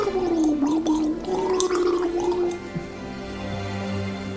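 Water is poured or drunk up close, making a gurgling, gargling sound with a wavering pitch for a few seconds before it trails into quieter drips and sloshes.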